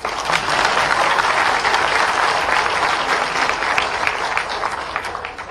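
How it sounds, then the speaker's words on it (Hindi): A large audience applauds at a university convocation ceremony, with loud, dense clapping that holds steady and begins to thin only in the final moments. "ताली तो बजाओ।"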